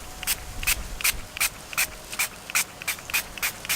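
Rhythmic rubbing strokes, about a dozen short swipes in steady succession, close and fairly soft, wiping residue off a car headlight lens.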